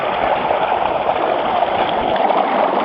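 Water churns steadily as biodynamic preparation 500 horn manure is stirred in by hand, a loud, continuous swirling rush with no pauses.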